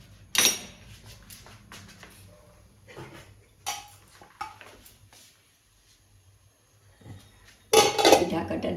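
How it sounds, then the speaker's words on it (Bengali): A dessert dish is set down inside a pressure cooker and a lid goes on, making a few sharp metallic clanks and clinks with quieter handling in between and a final loud clatter near the end. "কুকারে বসিয়ে দিচ্ছি আর উপরে ঢাকা দিয়ে দিচ্ছি।"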